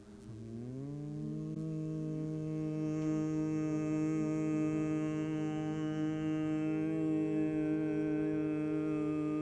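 Sustained group humming during a music therapy session, several voices holding a steady low tone that swells gradually louder and continues without pause for about nine seconds.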